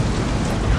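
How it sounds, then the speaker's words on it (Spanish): Heavy rain roars in the open-world game Saints Row, a dense, loud, unbroken wash of downpour with a low rumbling undertone of thunder, lasting under a second without speech. "Con toda esta lluvia, así no hay problema."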